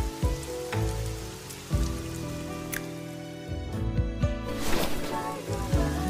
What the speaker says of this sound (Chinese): 你要想淋雨，我陪你一起。